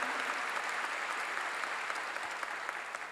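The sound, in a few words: congregation applause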